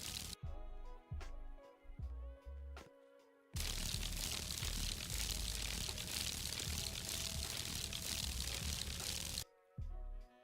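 Watering dirt in a Roblox farming game: a sustained, loud pouring water effect rushes steadily for several seconds, framed before and after by short clicky game sounds with gaps of silence.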